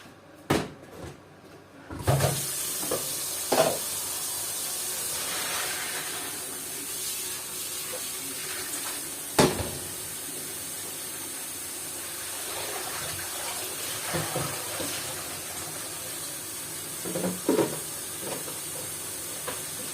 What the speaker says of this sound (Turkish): şu makarnamı süzeceğim şimdi